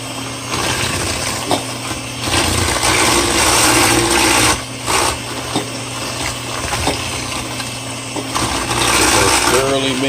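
Electric hand mixer beating egg and vanilla extract into gluten-free white chocolate chip cookie dough, a steady loud whirring drone running nearly the whole time, with a couple of short pauses.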